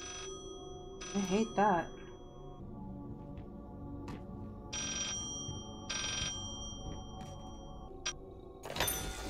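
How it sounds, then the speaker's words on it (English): Ringing in the horror video game Layers of Fear, a repeated bright electronic tone with short bursts spaced through the clip, playing alongside spoken comments and eerie game ambience. "I hate the ringing."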